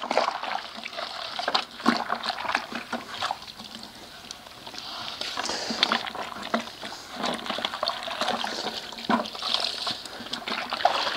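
Polish and buffing pads being worked by hand in water, giving irregular sloshing, squelching splashes and trickles up close, continuous and fairly loud with no talk.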